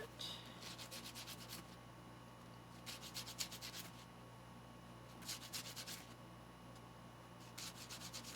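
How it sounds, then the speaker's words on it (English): Edge of a small silver ear nut sanded by hand in short rhythmic rubbing strokes that come in separate bursts over a steady low hum, faint and close. "And I'll just sand up the edge a little bit."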